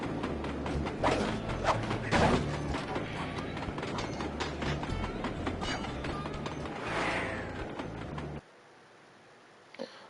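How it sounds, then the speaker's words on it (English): Iron Horse train from the Sly Cooper game rolls in with a dense mechanical clatter and rumble of rail cars and metal clanks, loud and continuous for about eight seconds, then cuts off abruptly into near silence. "Sly, the second Iron Horse train is coming too fast."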